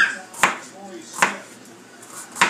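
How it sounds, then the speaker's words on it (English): A knife dices green peppers on a cutting board for shrimp quesadillas, three sharp, well-spaced chops landing close by with quiet rustling between them. "Alright, so I'm dicing up the green peppers."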